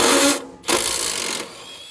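A power drill backs a screw out of deck framing in two close, loud whirring bursts separated by a brief pause, the second trailing off into quieter handling sounds.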